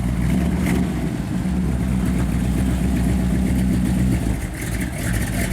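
A 1956 Chevrolet 210 Bel Air runs at a steady idle, its motor a continuous low rumble close by with no talk over it.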